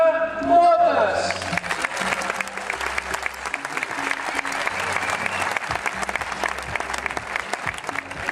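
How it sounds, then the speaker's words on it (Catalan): Applause from an audience at a Godó 2013 event swells after a short opening and holds steady, a broad wash of many hands clapping with music underneath. "Ella és, i l'aplaudim, Alba Motes."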